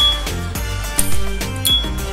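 A white S.T. Dupont lighter with a square-check pattern, model D139T, flicks its lid open with a crisp metallic click and a clear ringing ping, twice, over steady background music.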